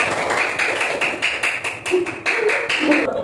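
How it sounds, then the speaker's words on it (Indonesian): A classroom of students claps for a group, sharp hand claps falling in a loose rhythmic beat, close and fairly loud, with young voices faintly mixed in. "Beri tepuk tangan untuk kelompok 1."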